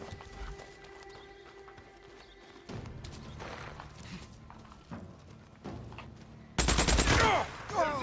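Sniper and gunfire ambush on a road in Days Gone, with sharp bursts of shots breaking out loudly near the end over ongoing game ambience and rustling movement.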